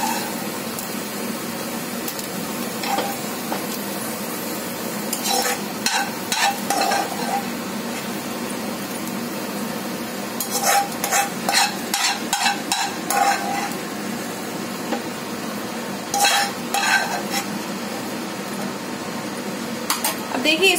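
Shredded cabbage being stir-fried in a pan, with a steady low sizzle and bursts of spatula scraping and clinking against the metal at intervals.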